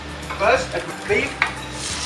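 Beef dropped into a very hot wok with a little oil on full heat: a sizzle that rises and falls, with a spatula scraping and a sharp metallic clink against the wok, all close by.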